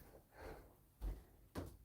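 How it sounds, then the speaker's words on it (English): Doors closing inside a house, with two distinct dull thuds about half a second apart, each with a short knock, close by in a quiet room. "I'm going to close those doors."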